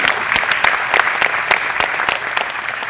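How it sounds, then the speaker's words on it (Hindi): Loud applause fills the hall at an Ambedkar Jayanti event, a dense burst of clapping from a large audience with distinct claps standing out, close and continuous throughout. "इसके लिए उनका जोरदार तालियां बजाकर"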